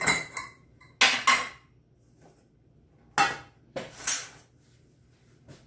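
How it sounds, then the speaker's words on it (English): Victoria sponge batter goes into baking tins with a few sharp clinks and scrapes of a utensil against the tins, in short separated bursts with quiet gaps between them. "now it's time to put our batter into the baking tins"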